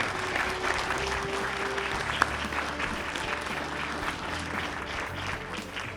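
An audience at the 2022 Blue Earth County Sheriff candidate forum gives a steady round of applause, moderate and sustained, with a single sharp clap popping out midway.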